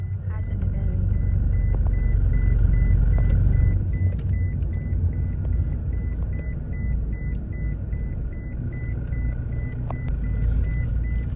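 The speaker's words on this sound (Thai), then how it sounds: "ขับต่อไปอีกหนึ่งกิโลเมตร" A car drives along a road in Thailand, with a steady low engine and road rumble from inside the cabin that eases slightly partway through, a repeating soft electronic beep, and a voice talking over it.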